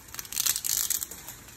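Dry spaghetti snapped in half by hand in a home kitchen before going into boiling water, a close burst of brittle cracking and crunching lasting about a second.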